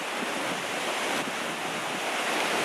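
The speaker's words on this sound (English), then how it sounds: "You hear those big splash?" Steady rushing roar of water near a waterfall on a family hike in Valdez, Alaska, a continuous broadband wash with no clear individual splashes, heard alone without talk.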